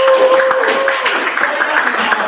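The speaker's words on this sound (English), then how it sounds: "So give a round of applause here." A youth capacity workshop audience on advocacy and activism gives a short round of scattered hand clapping, with a voice and a steady tone sounding over it.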